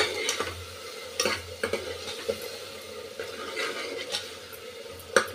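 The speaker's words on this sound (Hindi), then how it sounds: "मसालों को खूब अच्छे से मिक्स करके भून लिए" Spices with chilli are stirred and fried in a pan for a lobia dal masala curry: a soft, steady sizzle under repeated sharp clicks and scrapes of a spoon against the pan.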